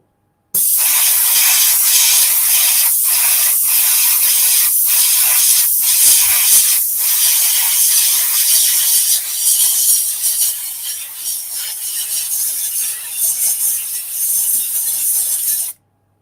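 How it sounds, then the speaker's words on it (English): An air compressor runs in a shed with a loud, continuous, broadband hiss that holds steady for most of the stretch, dips briefly near the end, then cuts off abruptly. "It's my compressor."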